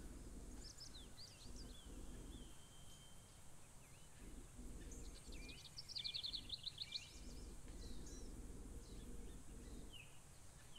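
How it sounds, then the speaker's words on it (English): Birds call and chirp in the forest ambience of the video game The Isle, with short bright trills and twitters scattered over a faint, steady background hush, fairly quiet and distant. "All I hear are birds."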